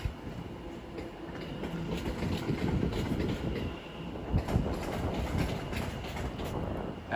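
A train rolls through Watford Junction station on the West Coast Main Line, a steady continuous rumble with rail clatter that swells briefly midway, heard alone without talk.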